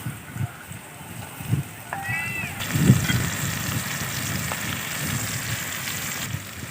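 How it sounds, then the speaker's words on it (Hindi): Okra pieces drop into very hot oil for a crispy fry, setting off a steady, close sizzle that swells after they go in and continues evenly, with a faint clink of a utensil. "ऑयल भी हमारा अच्छे से गर्म हो चुका है। अब हम थोड़ी थोड़ी करके भिंडी ऐड करेंगे।"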